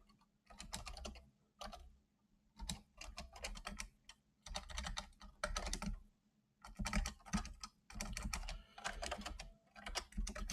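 Computer keyboard typing during a Haskell programming livestream: quiet, fast clattering keystrokes in irregular bursts separated by short pauses, close to the microphone, with no talk.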